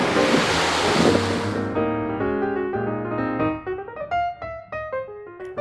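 Strong wind and surf rush on a beach on the Isle of Barra in a loud, hissing burst that fades after a couple of seconds, giving way to sustained tonal notes.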